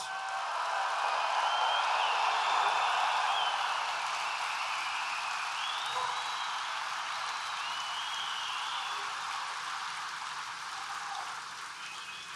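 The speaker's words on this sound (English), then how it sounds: "we want to give them a big, big, beautiful round of applause" A large audience at a National Rifle Association leadership forum applauds veterans in a dense, steady roar of clapping lasting about twelve seconds, easing slightly toward the end.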